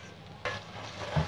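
Onions frying in a pan, a soft, low sizzle with a brief stirring scrape partway through, faint and close.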